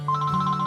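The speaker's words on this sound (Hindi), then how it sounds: "कब से आपका मोबाइल बज रहा है?" A mobile phone ringtone rings out in a drama scene: a quick run of bright, even electronic beeps over a steady low hum, close and clear, with no voices.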